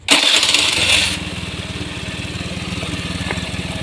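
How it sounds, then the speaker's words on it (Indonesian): A Honda Beat FI motorcycle in a repair workshop, just after a wheel change and a tidied O2 sensor cable, starts with a loud burst. It then settles into a steady, rhythmic low idle close by. "sekarang kita hidupkan motornya."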